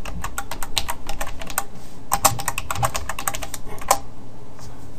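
Quick bursts of keystrokes on a computer keyboard as a terminal command is typed, close and crisp, with brief pauses between runs of clicks and no voices.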